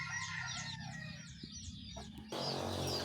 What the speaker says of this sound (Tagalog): Itong tatlong inahin.